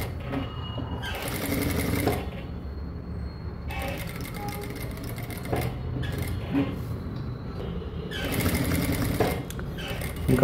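Sewing machine stitching along a neckline, a close, steady mechanical whirring rattle that runs in several bursts separated by brief pauses.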